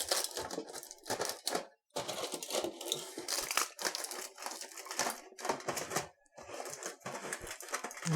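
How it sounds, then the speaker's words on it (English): Aluminium foil is pressed and smoothed around the edges of a loaf tin, giving close, continuous crinkling and crackling in bursts separated by short pauses. "just go round all the way, ensuring there's good contact between the foil and the edges"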